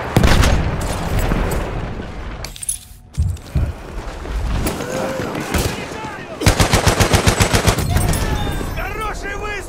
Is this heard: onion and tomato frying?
no